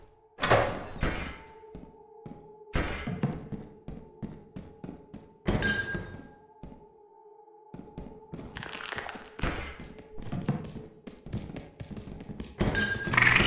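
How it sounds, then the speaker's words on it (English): A door swinging shut in the video game Lethal Company, with several heavy thunks and slams spaced a few seconds apart over quiet in-game ambience and a faint steady hum. "Now we close this door and we're A-okay"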